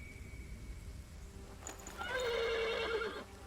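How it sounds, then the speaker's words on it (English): A horse neighs loudly and close by in The Pillars of the Earth video game, a single drawn-out whinny that rises and wavers for over a second over a quiet background, with no talk over it. "The horse nearly woke the guard."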